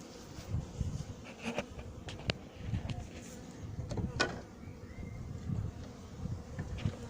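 Honey bees buzz around a freshly opened horizontal hive, a steady low droning hum with occasional louder passes of individual insects close by, and outdoor wind noise underneath.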